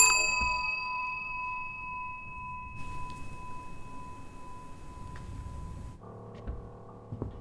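A bell in a cozy video game rings with a clear, sustained ding that hangs and decays for several seconds over low background noise, followed by a softer, lower chime near the end.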